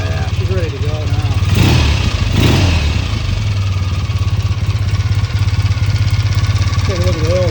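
A 1966 BSA A65L motorcycle engine runs steadily at a loud, close idle with a couple of brief rises in revs, and a voice speaks over it.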